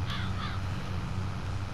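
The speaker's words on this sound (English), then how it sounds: "Crows." Crows caw in the countryside of Farming Simulator 22's Bloomfield Canada map, two harsh calls early on over a steady low engine drone that continues after them.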